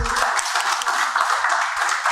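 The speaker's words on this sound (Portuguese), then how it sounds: "Uma salva de palmas para o doutor Roberto Macedo." An audience applauds Dr. Roberto Macedo, an economist, at a business conference, the clapping steady and dense throughout without a break.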